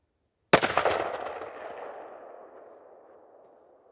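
A single loud gunshot from a .429 DE pistol fitted with a red dot sight cracks after a moment of silence, then rings out in a long, fading echo.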